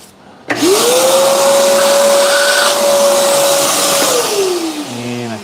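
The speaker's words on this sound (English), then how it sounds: "That was drilling just a little hard" A power drill with a 31/32 bit bores through a plug in a workshop, a loud, steady motor whine held for about four seconds before it winds down, with no talk.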